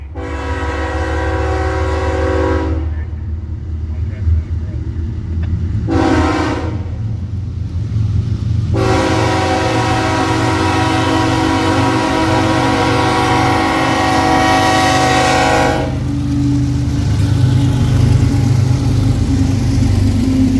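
NS 283, a freight train led by a pair of BNSF GEVO locomotives, rumbles steadily past a crossing, with loud horn blasts in three separate bursts over its continuous roll.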